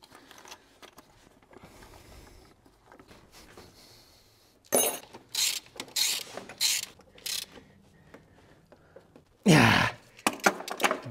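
Ratchet wrench clicking on the engine of a BMW E92 320i during starter removal, with bursts of sharp metallic ratcheting and clinks after a quieter stretch, close and fairly loud.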